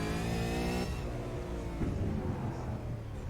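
An Outlaw Enduro Supercar on a short go-kart oval, its engine revving in a steady harmonic whine that breaks off into a rougher, lower drone as the car drifts sideways, close and loud with no talk.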